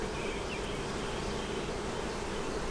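Honeybees buzz on and around hive frames, a dense, steady hum of many insects heard close and moderately quiet, without any speech.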